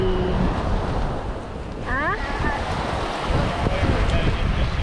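Ocean waves roll onto Sanibel beach as the tide comes in, a loud continuous wash of surf under gusty wind buffeting the microphone, with a brief faint voice or bird call partway through.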